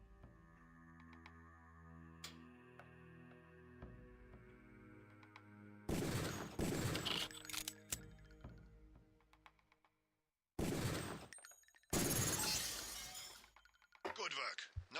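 Gunshots at training targets in the Deus Ex video game ring out in three loud clusters of rapid, cracking shots mixed with shattering impacts. A tonal musical bed plays beforehand and underneath, and there are brief pauses between the bursts.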